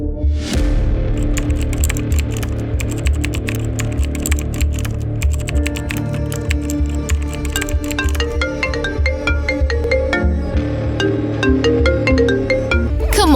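Phone ringing through an unanswered call in a hospital setting, a steady repeating electronic ring tone with a melodic pattern that carries on loud and close throughout with no voices.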